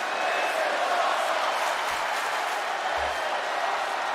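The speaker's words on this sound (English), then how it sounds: "The crowd down with the "This is awesome" chant." A wrestling arena crowd roaring and chanting, loud and continuous, with a broad wash of voices and scattered clapping filling the whole stretch without a break.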